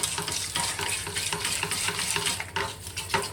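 A white roux sauce being stirred steadily in a pan with milk, a continuous close scraping and soft bubbling texture with rhythmic spoon strokes, no voices.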